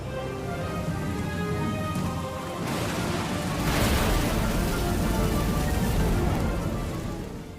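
Rain falls steadily in a fantasy drama scene, a continuous dense hiss that swells louder midway with a low rumble beneath, under sustained background music.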